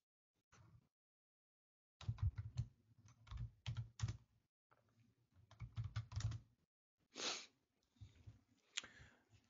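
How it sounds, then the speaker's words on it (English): Typing on a computer keyboard at a Linux command line: bursts of quiet, close key clicks in uneven clusters with short pauses, plus a couple of soft sniffs and breaths. "let's type ls here"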